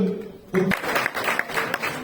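Audience applause greets someone speaker at a public talk, starting abruptly after a brief pause and continuing as a moderate, even patter of many hands.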